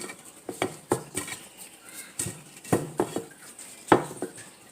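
Salt rubbed by hand onto whole potatoes for a Jamaican seafood baked potato, heard as close, scattered gritty scrapes and light clicks in a kitchen with no talking.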